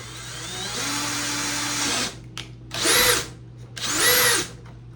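A power drill drives 1/4-20 socket head cap screws while a proton pack is modified: one sustained whirring run, then two shorter, sharper bursts, all close and loud.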